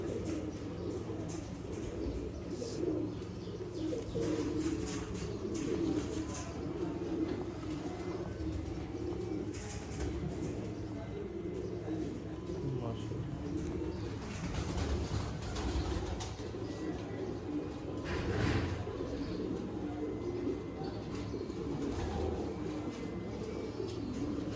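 Breeder pigeons of the Sialkoti breed coo softly and repeatedly, a low, hollow murmur kept at a quiet, steady level with a few faint chirps among them.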